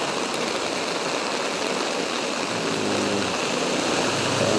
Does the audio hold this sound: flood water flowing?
yes